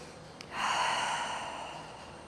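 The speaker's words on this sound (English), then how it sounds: "Let's find a couple breaths here." A slow, deep breath taken during a yoga flow, one soft intake followed by a long, airy exhale that fades gradually, close and quiet with no talking.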